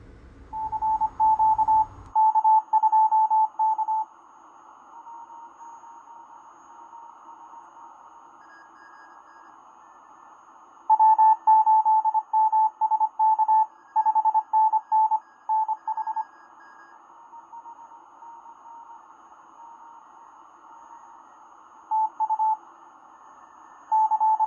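Morse code on 160 meters comes through a regenerative receiver with variocouplers and a plate variometer: clear keyed tone bursts in irregular groups, separated by long quiet gaps, with a short low hum at the start.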